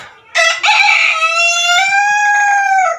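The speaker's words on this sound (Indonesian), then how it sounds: "ayam Arab ini pejantan ini berisik banget ya, kongkorongoknya itu cempreng" An Arab chicken rooster crows once, close and loud, a long shrill, piercing call held for a few seconds.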